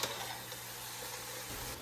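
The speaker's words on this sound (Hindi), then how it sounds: "1-2 मिनट के लिए ऐसे बस हल्का सा फ्राई कर दो" Grated carrots lightly frying in a pan for gajrela, giving a steady, soft sizzle throughout with no talking.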